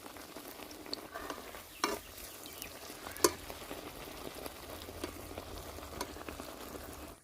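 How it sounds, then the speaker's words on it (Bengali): Oil sizzling and crackling in a pan as jackfruit pitha cakes fry, with occasional sharp pops and clinks of a utensil, quiet and close, no speech. "আমি একে একে সব পিঠেগুলো ভেজে নেব"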